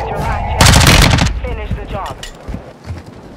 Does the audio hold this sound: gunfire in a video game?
yes